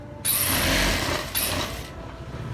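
Sewing machine stitching a men's kurta pajama in a tailor's shop, heard as two close, steady bursts of mechanical whirring with a brief slowdown between them and no talk.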